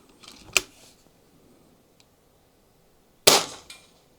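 An air rifle fires pellets outdoors during a chronograph field test, two sharp separate reports roughly three seconds apart, each a crisp crack with a short decaying tail, fairly close and otherwise quiet between shots.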